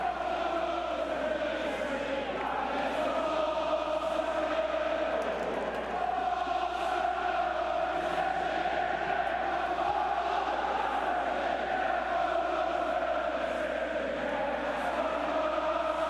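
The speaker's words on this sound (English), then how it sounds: "The Arsenal crowd in the corners singing" Arsenal supporters chanting together in the corners of Valley Parade during a cup match against Bradford City, a continuous sustained massed singing from a distance that stays even in level throughout.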